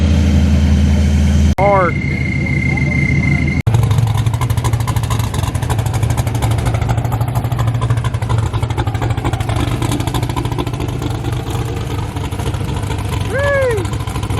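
A Dodge Hellcat fitted with an ESS supercharger kit revs sharply, then settles into a loud, steady engine drone with rising whine sweeps near the end, while people shout and talk over it.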